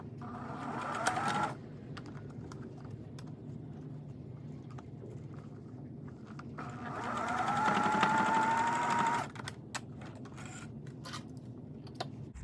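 A sewing machine stitches a silk scrunchie in two separate runs, one short burst at the start and a longer whirring run in the middle, with a quiet pause between and faint handling noises afterward.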